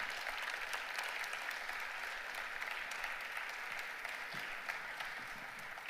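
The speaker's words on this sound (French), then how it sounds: "Merci Tristan Nitto, on peut l'applaudir." Sustained applause from a conference audience after a keynote on decentralizing the internet, a dense steady clapping that fills the room without a break and stays loud throughout.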